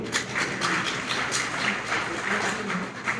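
An audience at a Gita seminar in Lucknow claps steadily for a few seconds, a soft even patter of many hands, fairly distant and moderate in level, with no voices over it.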